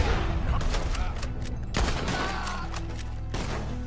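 Gunfire in the Red Dead Redemption 2 video game: dense, continuous volleys of overlapping gunshots and booms at close range, layered with game effects and a steady low rumble.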